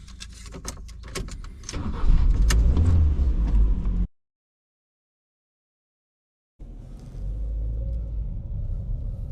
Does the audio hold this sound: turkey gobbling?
no